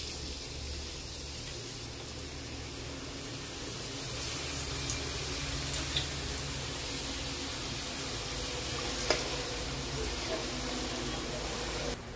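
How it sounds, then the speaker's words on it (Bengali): Potato chips frying in hot oil, a faint, continuous sizzle with soft bubbling hiss and an occasional small pop, steady throughout. "আমি তেলে আলুর চিপস গুলো ভাজার জন্য দিয়ে দিচ্ছি"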